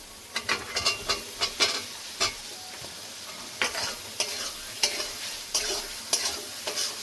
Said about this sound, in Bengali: মশলার সঙ্গে আলুটা সুন্দর করে মিশিয়ে নেব।